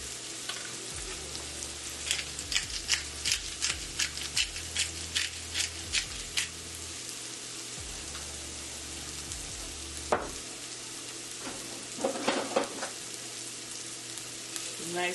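Shakshuka stirred in a frying pan, a soft ongoing sizzle punctuated by repeated spoon scrapes and clinks against the pan, fairly quiet and close.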